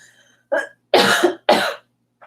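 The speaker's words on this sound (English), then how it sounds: "Coughing into my sleeves." Three harsh coughs in quick succession, close and loud, the last two longest, followed by a brief faint exhale; no talking.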